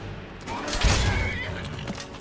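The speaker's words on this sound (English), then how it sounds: "The peddler's horse, I think, is attacking them." A peddler's horse in Skyrim whinnies loudly while attacking, a single drawn-out neigh over combat noise, with a voice talking around it.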